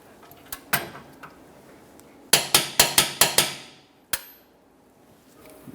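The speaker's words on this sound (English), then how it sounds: "Let's start torquing the two front bolts, starting from the front here, making our way towards the center." A torque wrench tightens the front lower control arm bolts on a Toyota Sienna minivan: a few scattered metallic clicks, then a quick burst of five or six sharp clicks and one final click, with quiet in between.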